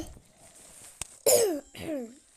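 A single harsh cough from a woman with a cold, close to the mic, followed by a second, softer cough-like burst, with a faint voice just before.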